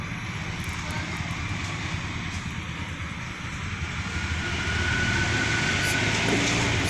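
A Yamaha Xeon carburetor motorcycle engine revs with a steady, dense roar that climbs in loudness about two-thirds of the way through as the throttle opens further. The engine is close and sounds alone, with no talking.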